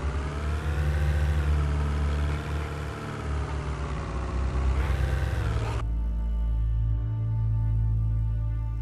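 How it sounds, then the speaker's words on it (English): Car engines from the driving game VEIN, a steady revving and idling tone with harmonics that bend upward near five seconds, then a sudden switch to a different, lower-pitched engine note running alone to the end. "We've added new engine sounds to different vehicles."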